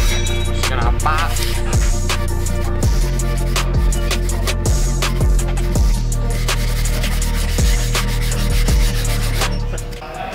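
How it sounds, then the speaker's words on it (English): Close, steady sanding of an engine cylinder head with 180-grit paper for a forged 1.6L Miata engine build, a continuous abrasive rub broken by regular strokes, about a dozen passes at an even rhythm, no talking. "One more finishing pass with 180."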